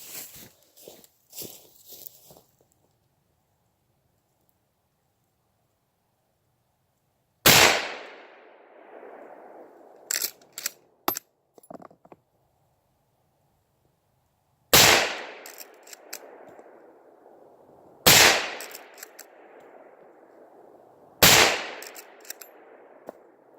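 A Winchester Model 94 30-30 lever-action rifle fires five loud, sharp shots, each with a ringing echo that trails off. The shots are spaced several seconds apart, and softer clicks of the lever action come between them.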